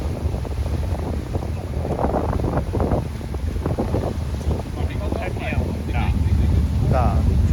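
A tour boat cruising through Milford Sound, New Zealand, with a steady loud engine and water rumble and heavy wind buffeting the microphone, while people talk over it.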